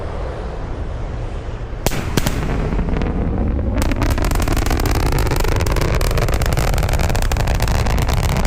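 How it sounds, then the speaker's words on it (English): SpaceX Starship sonic boom on return, a sharp double crack followed by a loud, sustained rumbling roar that fills the space, heard outdoors with no talk. "a sonic boom is basically a brief thunder-like noise"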